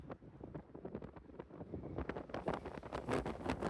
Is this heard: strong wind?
yes